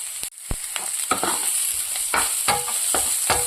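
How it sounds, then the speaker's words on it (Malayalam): Onions sauté in a pan for a tomato curry, a steady sizzle broken by sharp scrapes and taps as a spoon stirs them, close and alone with no voice. "ഉള്ളിയൊക്കെ ഒരുമാതിരി വഴന്ന് വന്നിട്ടുണ്ട്"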